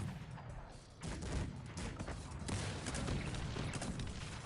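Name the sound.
cannon fire in a video game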